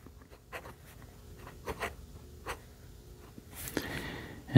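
A Kaco Edge fountain pen with a fine nib writes on paper in soft, intermittent scratchy strokes, then a louder rustle of paper near the end.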